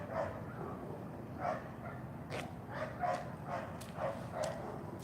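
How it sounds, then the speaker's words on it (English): A dog barks repeatedly at a distance, roughly every half second to second in irregular bursts, faint over a steady outdoor background. "Sounds like the dog found some."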